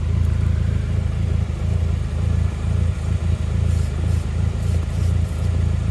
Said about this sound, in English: Okay, it's cranking. Time for the liquid fire.